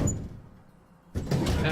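Drawers slide open in the game Tesla Effect: a rough scraping slide fades into a quiet pause, then a second louder slide rumbles in close to the listener.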